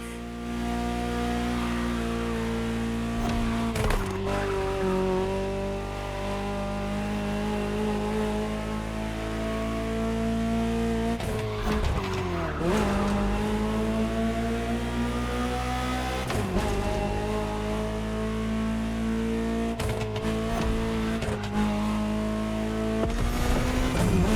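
A Ferrari engine in a video game roars continuously, rising and falling as it revs through gear changes, loud and close, with no one speaking.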